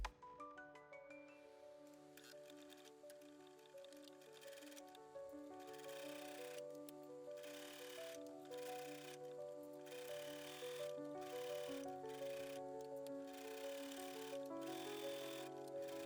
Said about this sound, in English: With the right sides facing out, sew a 1/4 inch seam along the side.